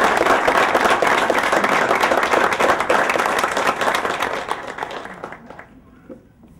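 An audience applauds a military band at a university inauguration ceremony, a dense wash of clapping that holds steady and then fades away over several seconds.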